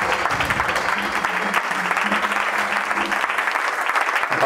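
A church congregation bursts into steady, loud applause during a French-language sermon, a dense wash of clapping that fills the room from start to finish.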